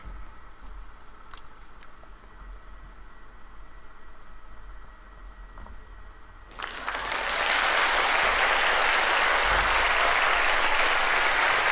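Thunderous applause erupts in a hall within the video game Flowers, starting abruptly after a quiet stretch and then holding as a loud, dense, sustained wall of clapping to the end.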